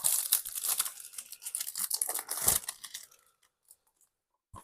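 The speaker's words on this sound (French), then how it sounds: "Je vais hop, le déballer." Plastic film is torn and crinkled off a new Blu-ray case at close range, a busy burst of rustling and ripping that lasts about three seconds, falls silent, then ends with a faint tap.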